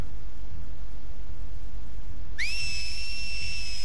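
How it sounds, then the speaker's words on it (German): Enemies in The Last of Us Part 2 whistle a sharp, bright signal that rises, then holds a steady pitch for over a second, entering abruptly after quiet ambient game sound. "Alter, pfeif doch nicht so"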